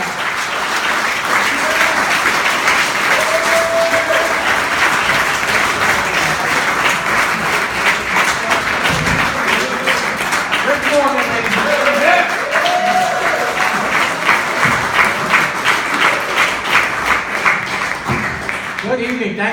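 A comedy club audience gives comedian Frank Failla a sustained round of applause and clapping, loud and steady throughout with cheers and scattered voices rising within it.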